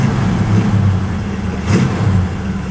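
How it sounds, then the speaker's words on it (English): A 1972 Ford Gran Torino Sport's engine runs at fast idle, a steady, loud low rumble with a slight swell partway through. "Fast idle works."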